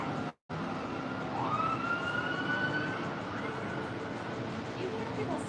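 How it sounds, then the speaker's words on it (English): A police siren wails on the Las Vegas Strip beside the Cosmopolitan, its rising and falling tone carrying over a constant wash of city and traffic noise from a distance. "It's really hard to cut out the police sirens, though."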